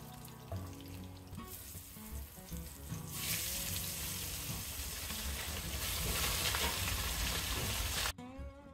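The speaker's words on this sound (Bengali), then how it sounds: "এভাবে সবগুলো মাছ আমি ভেজে নেব।" Small fish fry hard in hot oil in a pan, a bright crackling sizzle that swells and intensifies midway, with faint clinks of utensils and a sudden cut near the end.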